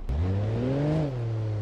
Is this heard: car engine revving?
yes